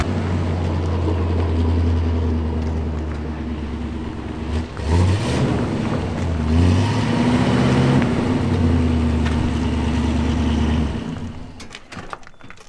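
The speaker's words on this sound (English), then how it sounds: "1958 Chevy Impala." A 1958 Chevy Impala engine revs loudly and close by, rising and falling through several throttle blips over a steady idle before cutting off near the end.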